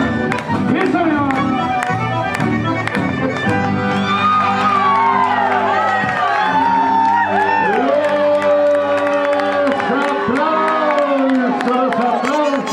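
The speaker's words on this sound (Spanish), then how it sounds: "Los aplausos." Audience cheering and clapping after a folk music performance, shouts and whoops over scattered applause, with voices talking and some music lingering underneath.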